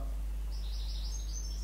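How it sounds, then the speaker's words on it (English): Birds chirp outdoors in a few thin, high tweets that rise faintly over a low steady hum, distant and quiet. "Can you hear those birds outside?"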